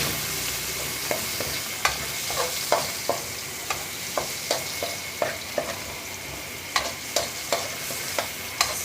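Onion sautés in a pan for a sardine dish, a steady sizzle running under regular scraping taps of a spatula stirring against the pan, close and clear with no talking.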